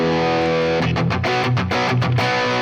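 Heavily distorted electric guitar in a pop punk tone from a Line 6 Helix preset rings out on a sustained chord, then breaks into a series of punchy, rhythmic chugged strums.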